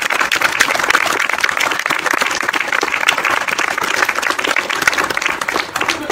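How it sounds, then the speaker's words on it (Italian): A lecture audience at a talk on Dante and the Friulian language applauds steadily, a dense, loud wash of clapping that holds for the full six seconds with no voices over it. "Vi farei un altro applauso."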